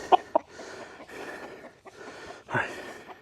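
A spoiled pet rooster gives a few soft, close clucks, a couple of quick sharp ones first and a longer one later, amid quiet handling noise.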